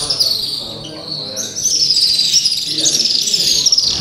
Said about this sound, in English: There's birds everywhere. They nest up here.